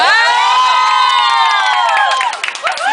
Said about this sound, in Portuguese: palmas pra ela, isso aí.